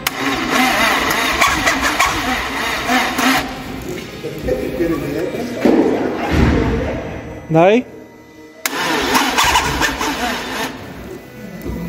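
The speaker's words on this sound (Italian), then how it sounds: "Abbiamo dedotto che il motore di avviamento è un po' morto." An old car with a weak battery and a failing starter motor cranks sluggishly, a near, strained grinding churn that drags on for several seconds, with people talking over it.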